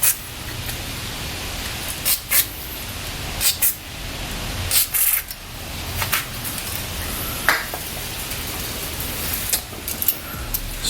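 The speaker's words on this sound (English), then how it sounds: "I'm gonna head and use some WD-40 to loosen this up" Several short hissing bursts of WD-40 aerosol spray on a 2009 Toyota Camry brake rotor, close by and irregularly spaced, over a steady background noise.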